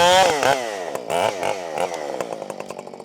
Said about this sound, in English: we're going to take our Husqvarna 572 and cut up a little bit of wood